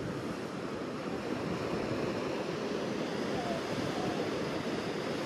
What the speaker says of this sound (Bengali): ওই যে দেখছো বড় ঢেউ আসছে।